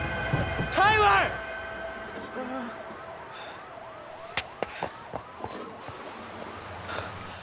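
A wailing ambulance siren in the video game As Dusk Falls rises and falls steadily in the background after a burst of shouting, with a few sharp knocks and clicks.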